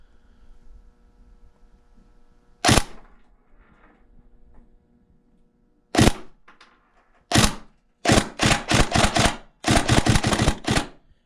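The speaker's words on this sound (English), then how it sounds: "I can fire this quite quickly, which is really nice" A Tokyo Marui SCAR-H airsoft recoil shock rifle fires sharp, loud, close reports: single shots spaced apart, then quick rapid strings of several shots in a row.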